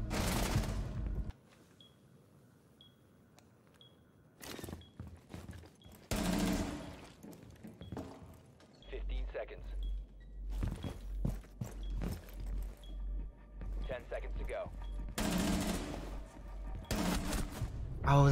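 Bursts of gunfire in Rainbow Six Siege, loud volleys clustered at the start, middle and end, with quieter game noise, footsteps and a low rumble between them; voices are heard intermittently.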